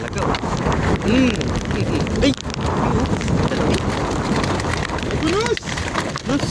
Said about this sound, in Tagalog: Malakas na rin ang ulan